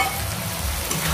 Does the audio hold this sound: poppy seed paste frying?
yes